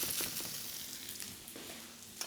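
Japanese chicken meatballs for tsukune skewers are pan-frying in a griddle pan with a steady, quiet sizzle and a few faint crackles and pops close by. Nobody speaks.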